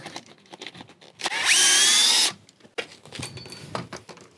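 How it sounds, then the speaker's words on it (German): A power drill loosens the last screw on foundation formwork for a heat pump install. It whirs loudly for about a second amid scattered knocks and handling clatter nearby. "Ich werde jetzt mal dahin gehen und die letzte Schraube lösen."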